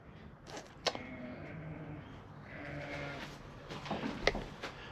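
Sheep bleat on a small farm, several faint, wavering calls scattered across the stretch, somewhat distant, with quiet outdoor background and no talking.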